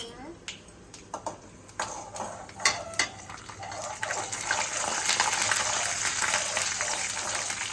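Chana dal is sautéed in hot oil in a pan. Scattered sharp crackles and pops settle into a steady, fairly loud sizzling hiss.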